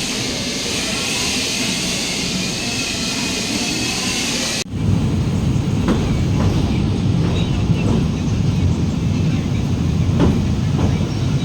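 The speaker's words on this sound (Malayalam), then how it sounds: "നമ്മുടെ ട്രെയിൻ വരുന്നേ ഉള്ളൂ." A train rumbles at a railway station in Mangalore, first as a loud, steady broadband roar. Then comes a brief cut to a rolling, clattering rumble with periodic knocks, close by and continuous.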